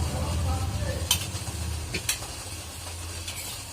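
Gujiya pastries fry in hot oil over low heat, giving a steady close sizzle with a few sharp stirring clinks and bubbling crackles.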